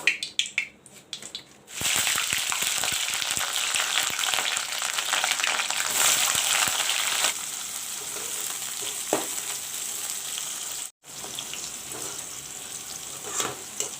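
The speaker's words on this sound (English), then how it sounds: "The capsicum is almost fried" Capsicum frying in a pan: a loud, steady sizzle with crackling and stirring scrapes, briefly cutting out before the frying resumes, no voices.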